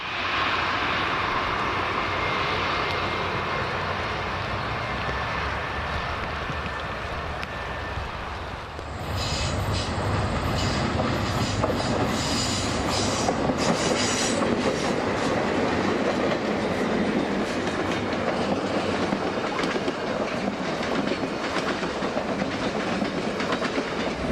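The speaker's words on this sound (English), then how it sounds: "SP San Joaquin Daylight Train 51 is seen heading west for Oakland" Southern Pacific's San Joaquin Daylight Train 51 rolls west toward Oakland, heard from above on the Santa Fe line: a distant steady rumble that jumps into a louder, close clatter of wheels and cars about a third of the way through.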